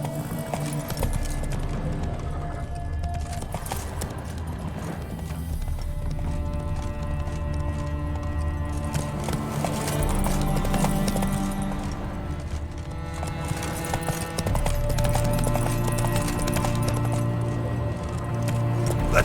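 Roach the horse's hooves clip-clop in The Witcher 3, a steady rhythmic trot that runs throughout under a continuous game soundtrack and ambience, with no talk.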